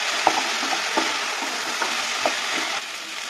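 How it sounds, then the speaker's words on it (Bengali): Chilli, onion and mustard paste sautés in a pan, a dense, even sizzle with a few soft stirring taps, close and fairly loud, with no speech. "এটাকে ভালো করে কষিয়ে নেব।"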